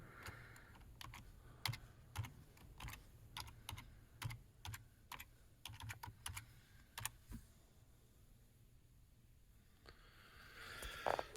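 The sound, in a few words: typing on a computer keyboard to log on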